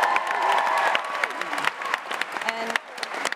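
A television studio audience applauds and cheers, a dense crowd roar with clapping and whoops at the start that thins out into scattered claps and voices toward the end.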